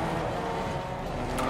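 A car driving in the Fortnite video game, a steady engine drone that holds constant and close throughout the short stretch, with no voices over it.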